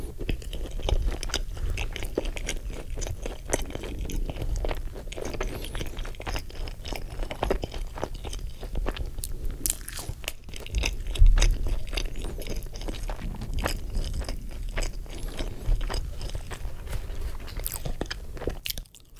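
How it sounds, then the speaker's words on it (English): Crunchy, extra-seasoned Wingstop fries are chewed right at the mic in steady, continuous bites and crunches, with no talk. "And then I love when you get like the crunchy fries and they have extra seasoning."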